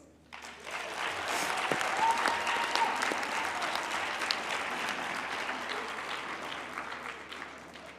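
Sustained applause from graduates in a university hall at a spring graduation ceremony, a dense wash of clapping that rises quickly and holds steady for several seconds before slowly thinning.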